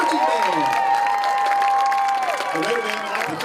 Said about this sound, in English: Ladies and gentlemen, one more round of applause for the Raider Red Band from Raiderland,